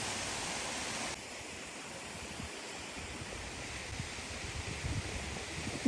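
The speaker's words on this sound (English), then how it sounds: "This is not just a single waterfall, but it consists of 2 to 3 waterfalls together." A waterfall in Serbia, made of two or three falls together, gives a steady broadband rush heard at moderate distance with no voices. The roar eases slightly after the first second and holds even to the end.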